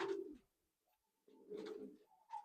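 Tournament flying pigeons coo in two close, soft bursts separated by a brief silence, with a higher chirp closing out the second burst.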